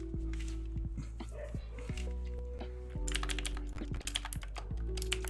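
Rapid clicky typing on a computer keyboard in bursts, close and fairly loud, over a steady low background hum with a few thumps.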